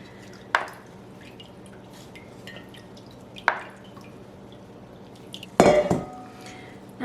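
Buttermilk dripping from freshly pressed homemade butter made from raw cow's milk, heard as three separate drips or splashes spaced a few seconds apart, the last one louder and longer, over a quiet kitchen background.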